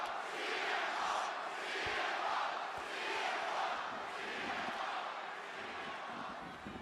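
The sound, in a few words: wrestling crowd cheering CM Punk on WWE Raw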